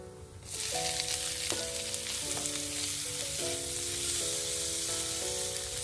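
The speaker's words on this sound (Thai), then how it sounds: "พอกระเทียมหอมดีแล้วนะคะ ใส่กุ้งกับปลาหมึกลงไปค่ะ" Shrimp and squid hitting hot oil with fragrant garlic for a Thai curry-powder stir-fry, a loud close sizzle that swells on entry and holds steady under a bright tonal hum.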